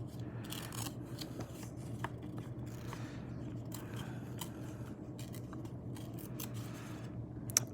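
Scissors snip through paper letters in quick, repeated close-up cuts over a steady low background hum, with no voices.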